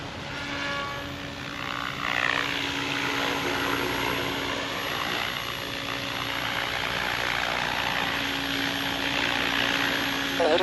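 XL Power Nimbus 550 RC helicopter with its rotor idling after a maiden flight: a loud, close, steady whirring drone with a continuous engine-like hum and no breaks.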